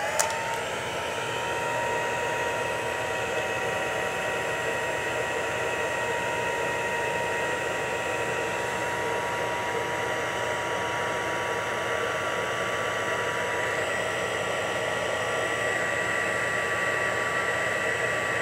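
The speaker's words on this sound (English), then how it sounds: "now I'm going to get my heat tool, and I'm going to set it on setting 1" A heat tool on its lowest setting blows hot air onto foil, producing a steady loud whooshing roar with a faint whine that holds unchanged throughout, with no voices.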